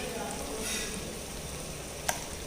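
Ginger garlic paste fries in a pan with a steady, close sizzle and crackle throughout, broken by one sharp click near the end.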